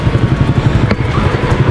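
A motorcycle idles at a roadside stopover beside a highway, its steady mid-pitched engine thrum pulsing evenly and close by, with a brief clatter partway through.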